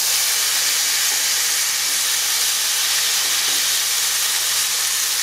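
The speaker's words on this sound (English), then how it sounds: "I'm about to turn this steak over." Steak sizzling steadily in a stovetop pan just after being flipped, cooking for carne asada tacos: a loud, continuous hiss with no pauses and no voices.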